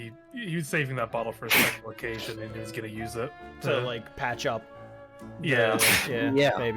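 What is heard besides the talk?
sneeze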